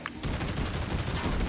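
Grenade explosion in the video game Killing Floor 2: a loud, sustained crackling roar of blast noise and gunfire filling the whole moment, with no talk.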